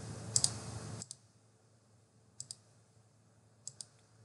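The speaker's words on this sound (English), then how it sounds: "Click Add and hit Save." Several sharp computer mouse clicks used to add and save an inventory bin entry in NetSuite business software, a close pair near the start and then two more spaced pairs, each crisp and brief over a quiet background.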